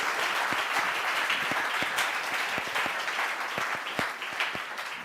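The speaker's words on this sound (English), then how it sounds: "Huge round of applause." An audience at a live global startup competition final applauds, a dense steady wash of many hands clapping at close range, holding throughout and easing slightly at the end.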